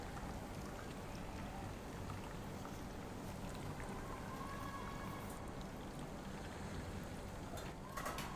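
Chicken frying on its second side in a pan over high heat, a whole Lahori chargha, gives a loud, steady, continuous sizzle throughout, with no voices.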